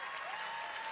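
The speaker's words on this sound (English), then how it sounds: "that doesn't deserve a round of applause" Audience applause at a comic convention panel, a steady wash of clapping from a crowd that holds evenly loud through the whole short moment, with no voices over it.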